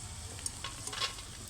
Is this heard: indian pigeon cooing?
no